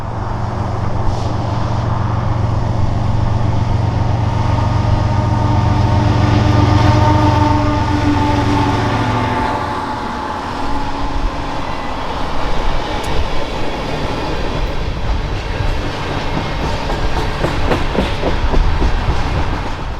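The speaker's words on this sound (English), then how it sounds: "an eastbound empty oil train off the Yakima Valley sub rolled through the yard as well" An empty eastbound oil train off the Yakima Valley line rolls through Pasco yard, loud and close, with a steady low locomotive drone that fades into rattling, clattering railcars and wheel noise passing for the rest.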